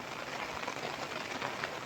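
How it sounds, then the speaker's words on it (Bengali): Heavy rain pours down across an open field, a dense, continuous hiss of drops with no voices, steady and fairly loud for its short span. "আমাদের চকে প্রচুর বৃষ্টি মাঝে মাঝে বজ্রপাত হচ্ছে"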